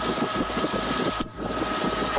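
A police helicopter flying overhead during a chase gives a loud, steady, broadband engine and rotor roar, briefly dipping in the middle before resuming at full strength.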